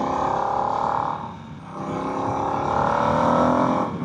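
A 2024 Harley-Davidson Nightster Special motorcycle engine hums steadily in the mid-range, dipping briefly as the throttle eases, then climbing back into a smooth, sustained rev with wind rush around it.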